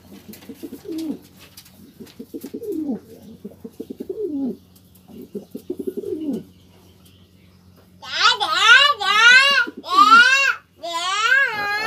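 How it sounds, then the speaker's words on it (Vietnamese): Domestic pigeons in a loft cooing in soft, throaty rolling phrases, close by, while someone speaks Vietnamese over them; later louder, wavering high calls from young birds take over. "Đây bồ câu của mình đây"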